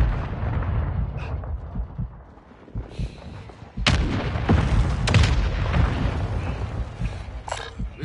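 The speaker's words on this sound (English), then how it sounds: "Friendly airstrike on the way." Airstrike explosions in a video game: heavy booms and artillery-like thuds rolling through a rumbling battlefield, several sharp blasts spaced over a few seconds, loud and near.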